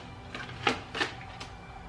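Tarot cards are shuffled close by in three soft, brief riffling bursts spread over two seconds, faint against a quiet room. There is no talking.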